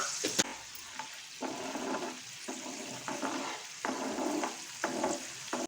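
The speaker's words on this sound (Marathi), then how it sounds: "तेल आणि पाणी ॲड करून आपण फोडणी दिली ना ढोकळ्याला" Oil and water tempering for a corn and suji dhokla gives a soft, steady sizzle that swells in rhythmic bursts as it is stirred, fairly quiet and close, with no talking.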